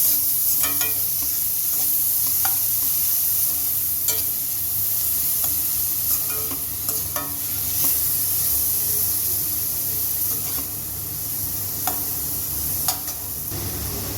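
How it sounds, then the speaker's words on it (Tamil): Finely chopped onion with garlic fries in oil in a pan, a loud, steady hissing sizzle with scattered sharp spatula scrapes and clicks while being stirred. "இதை நல்லா ஃப்ரை பண்ணிக்கலாம்"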